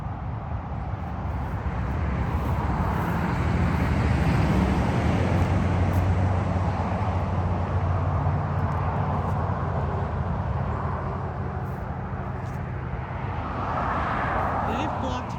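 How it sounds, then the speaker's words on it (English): Steady traffic roar from US Highway 1 South near a pioneer cemetery on Merritt Island, Florida, a continuous broadband rumble holding level for the whole stretch with no talk over it. "So the traffic that you hear is on US Highway 1 South."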